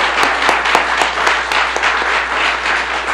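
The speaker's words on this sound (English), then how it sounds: "I want to give him a round of applause for his integrity leadership." Audience applause at a government event, a dense steady wash of many hands clapping loudly and evenly throughout, with no voices on top.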